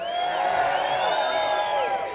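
A festival crowd at an outdoor bluegrass event cheers and whoops steadily, with high, sweeping shouts layered over a dense wash of voices for the full stretch, loud and continuous.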